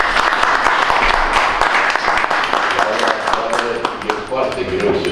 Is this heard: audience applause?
yes